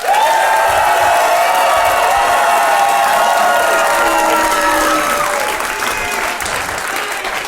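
Loud, sustained applause from a live comedy audience in a Chicago venue, thick continuous clapping mixed with cheers and high whoops that holds for the whole stretch and eases slightly at the end.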